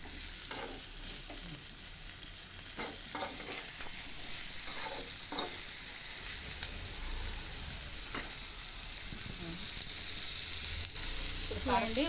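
Chicken pieces seasoned with salt fry in a pan under a steady bright sizzle, with intermittent stirring scrapes and a faint voice at times.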